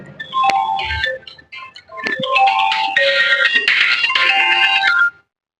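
A phone ringtone plays an incoming-call melody, loud and close, with repeated bright tonal phrases that cut off abruptly at the end.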